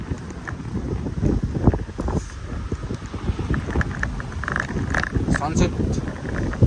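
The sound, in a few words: wind blowing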